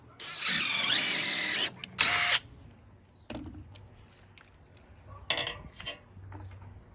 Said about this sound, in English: Now I'm gonna take the countersinker.